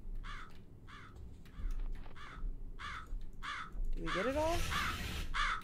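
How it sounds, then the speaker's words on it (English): A crow caws repeatedly in a steady series of harsh calls, some overlapping, while people talk nearby over a low background hum. "Bird, please shut your mouth."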